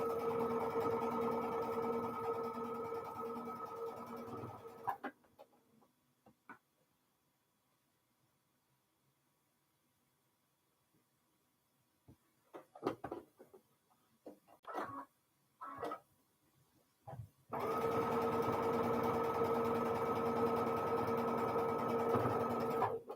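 A sewing machine stitches quilt star blocks in a steady, fast mechanical whir, stops for a pause filled with faint clicks and handling noises, then starts up again and runs loud and close.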